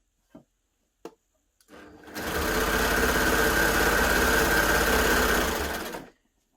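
A Baby Lock Gloria combination cover stitch and overlocker machine runs a continuous stitching burst of about four seconds after a few short clicks, close and loud with a steady rapid whir, then stops.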